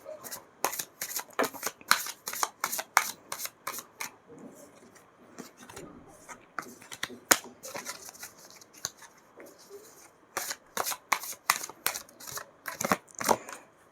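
Tarot cards being shuffled in quick, crisp riffling bursts, close and clear, pausing briefly in the middle before a final rapid run.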